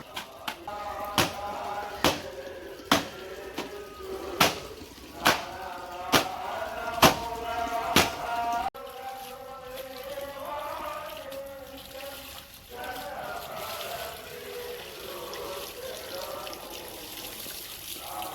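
Tap water runs and splashes while clothes are set to soak, opening with a string of sharp regular knocks before settling into a steady, close trickle and pour.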